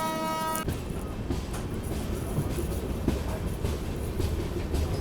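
The Pinakini Express, a passenger train running from Vijayawada to Chennai Central, rumbles steadily with a continuous broadband roar and faint rhythmic rail clatter, heard from on board after a brief high whine at the start.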